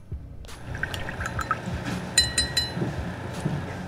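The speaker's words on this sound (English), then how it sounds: "always rinse your brush every time you're painting" A paintbrush used for miniature painting is rinsed in a water pot: soft, repeated swishing and light clinking of the brush against the container, close and fairly quiet, with no voices.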